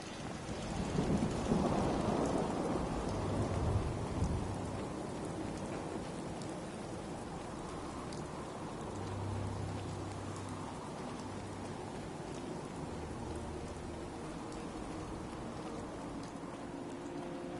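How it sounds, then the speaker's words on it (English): Steady rain with a rumble of thunder early on in the video game Fallout 4 at night, a continuous wash of rainfall with low rolling thunder fading under it, no talk. "Hope this rain lets up soon."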